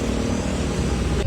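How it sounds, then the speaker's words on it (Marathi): Motorcycles ridden by bikers pass along a foggy ghat road near a waterfall, giving a steady, loud engine rumble with no pauses and no voices. "हे बाईक रायडर चालले"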